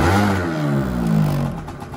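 A 2014 Gilera DNA motorcycle engine revs up close as the throttle is twisted, a loud rising and falling mechanical drone that swells, briefly peaks, then settles, with no talk over it.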